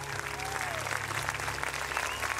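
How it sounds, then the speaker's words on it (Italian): An opera concert audience applauds the onboard orchestra of two keyboard players, a dense, sustained clapping crowd heard close and loud for the whole moment, with a voice briefly audible beneath. "Give them a round of applause."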